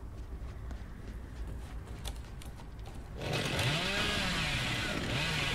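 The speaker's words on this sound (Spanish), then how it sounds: "No sé cómo funciona la motosierra, loco." A chainsaw in the video game Dead by Daylight: faint ambience first, then the saw revs up partway through and keeps running with rising and falling whines, fairly close.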